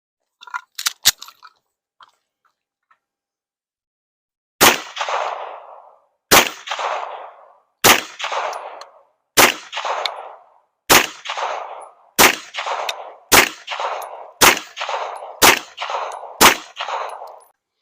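A Canik SFX Rival pistol fitted with a Mecanik MO2 optic fires about ten sharp, evenly spaced shots outdoors, each crack ringing out with a short echo, after a quick cluster of earlier reports.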